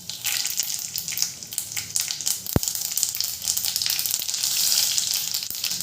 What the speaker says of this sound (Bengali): এরপরে ওই তেলের মধ্যে দিয়ে দেবো কালো সর্ষে।